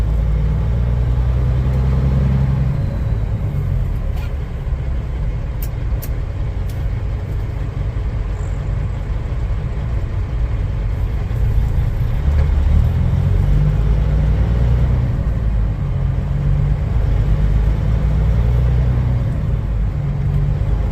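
Idling trucks at a truck stop in Illinois produce a loud, steady low engine rumble that swells slightly at times, with faint higher clinks now and then over the drone.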